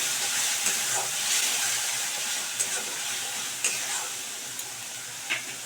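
A cumin and coriander mix with water is stirred in a sizzling pan, a steady steamy hiss broken by several soft scraping strokes of a spoon.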